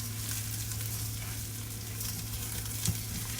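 Uncle Ben's rice, not parboiled, sautés and browns in a pan with a steady, soft sizzle and a low hum underneath, plus one small knock near the end.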